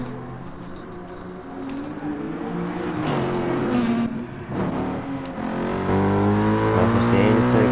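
Race cars, an HP Porsche among them, roar past in turn during a 150 km night-series race at Dragon Trail, engines droning and rising in pitch, with a voice speaking over the noise.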